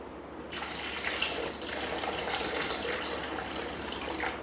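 Cold brew coffee pours steadily into a Thermomix jug, a continuous close liquid rush that starts abruptly and runs unbroken to the end.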